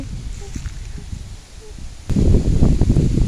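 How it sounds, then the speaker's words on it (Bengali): Spring wind rustles through village trees and mango blossoms beside a pond. The steady leafy rustle is moderate at first, then swells louder and fuller after about two seconds. "কি সুন্দর বাতাসের ঢেউ খেলছে।"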